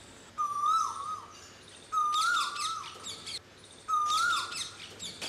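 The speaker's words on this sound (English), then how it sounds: "I woke up suddenly hearing a sweet musical voice of a quail." A quail calls three times at even spacing, each a clear, musical whistled phrase heard close and alone. A fainter high chirping from other birds sits behind the calls in an outdoor spring morning setting.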